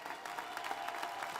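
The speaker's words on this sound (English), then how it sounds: "give them another round of applause" A short burst of steady applause from an inauguration ceremony crowd, many hands clapping at once, fairly distant and even in level.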